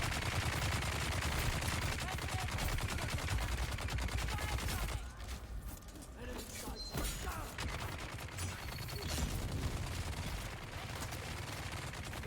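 Sustained automatic rifle fire in a base-building PvP video game, with bullets pounding against an energy shield, forming a dense, loud, continuous barrage that barely eases midway before resuming.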